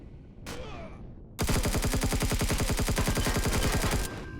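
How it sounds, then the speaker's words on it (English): Rapid automatic gunfire erupts in the Empyrion Galactic Survival space game during a pirate base raid, a loud sustained burst of evenly spaced shots lasting a few seconds after a brief earlier shot. "Wow, people are firing."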